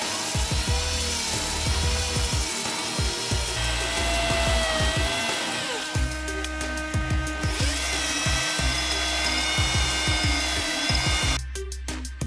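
A steady mechanical grinding whine with rhythmic scraping strokes as a honing tool works the cylinders of an engine block using water, continuing with short pauses and changes in pitch.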